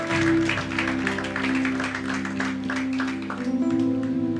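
A church congregation applauds together in a steady wash of clapping that holds for the whole stretch, with a sustained musical drone underneath.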